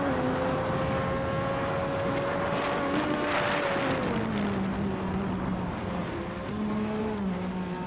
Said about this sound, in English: Druerfals and Nyarlathotep 98 are nose to nose, fighting for 12th place.